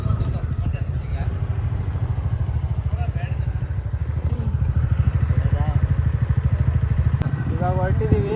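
A motorbike ride sets off from Murudeshwar on the Karnataka coast, the engine droning steadily with a rapid pulsing throb close by, while voices talk over it now and then.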